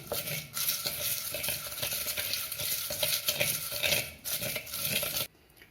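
Gongura greens and chillies are mashed and stirred in a pan with a steady run of scraping, clattering strokes close by. The strokes stop abruptly near the end.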